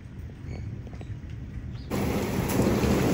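Heavy rain during a hailstorm in Al Ain, UAE, shifts from a steady patter to a sudden louder, denser downpour about two seconds in, then keeps roaring evenly.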